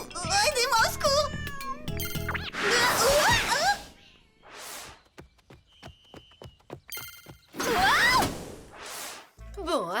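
Cartoon cats meowing from cages, several high wavering meows in bursts, interleaved with ringing tones and short clicks, loud and close.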